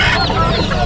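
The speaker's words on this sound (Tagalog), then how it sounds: "baka kursunado niyo yung mga manok. Mga manok namin." Several chickens cluck loudly and close together at a pet market, with overlapping calls filling the short moment and no clear talk.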